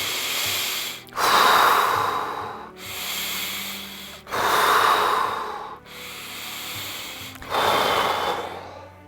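Deep breathing exercise: three slow, heavy breaths, each a loud rushing inhale and exhale right at the mic, rising and falling in a steady rhythm with short pauses between, no talking.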